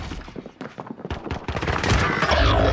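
AK rifle fire in Call of Duty, a close, rapid burst of sharp cracks in quick succession that thickens into a dense barrage of overlapping shots toward the end.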